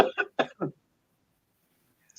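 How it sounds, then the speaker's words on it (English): Four quick harsh coughs in a rapid burst from someone with a cold, close and fairly loud, followed by near silence. "I've got a coughing fit all of a sudden."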